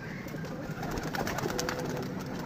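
Pigeons coo softly amid a busy wash of background noise while eating grain, with faint pecking and rustling close by, in a winter pigeon-care setting.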